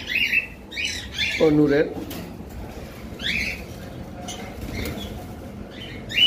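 A breeding pair of pet birds in a cage give sharp repeated squawks and chirps with bursts of wing flapping, close by, while a person speaks briefly.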